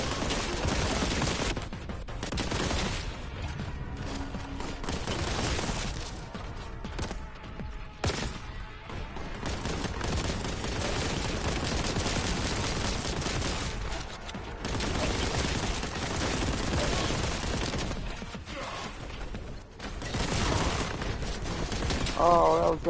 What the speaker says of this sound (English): cracking bullets